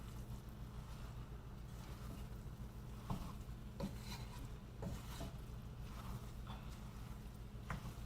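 Masala being stirred into prawn rice (kolambi bhat) in a pan, a quiet steady scraping and rustling with a low background hum and a few soft clinks of the spoon against the pan.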